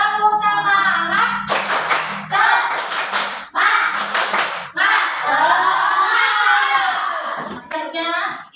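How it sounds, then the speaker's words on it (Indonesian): A school class performs a rhythmic spirit clap in unison during a religion lesson, several sharp clustered bursts of handclaps separated by short pauses, with children's voices chanting and shouting along. "Kita tepuk semangat dulu agar pembelajaran ini lebih semangat dan lebih ceria."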